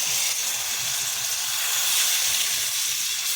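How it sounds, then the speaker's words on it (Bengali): Water pours into a hot pan of chicken kosha and sets off a loud, sustained steamy hiss and sizzle, close and continuous with no talking. "মাংস খুব সুন্দর করে কষিয়ে নিয়েছি, জলটা দিয়ে নিচ্ছি।"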